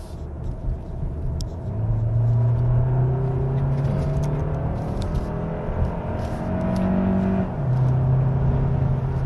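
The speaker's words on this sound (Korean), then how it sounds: "확실히 엔진룸에서 들어오는 소리가 더 커요" A Kia Sorento Hybrid's engine drones steadily from inside the cabin, a low humming rumble that rises and falls as the revs change.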